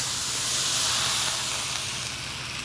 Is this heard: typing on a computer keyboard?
no